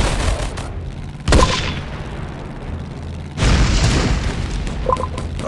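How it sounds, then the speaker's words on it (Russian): Grenade explosions in the World War II game Road to Valor, two loud booming blasts with a long rumbling tail between them, heavy and close, with no talk. "Граната!"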